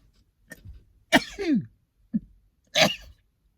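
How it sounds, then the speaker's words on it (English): A person sneezes, with a sharp intake and explosive burst, followed by a short catch of breath and a second forceful sneeze, close up with no speech. "And I'm going to sneeze."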